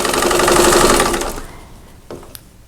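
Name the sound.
sewing machine sewing a quilt block corner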